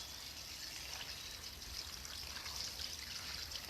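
Water poured into a fermentation jar of vegetables, just enough to cover them, a steady close trickling stream with no pauses.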